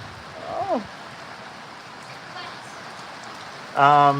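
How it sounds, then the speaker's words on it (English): Steady, dense hiss of heavy rain pouring down throughout, with a brief voice early on and a short tonal sound near the end. "this rain coming down heavy"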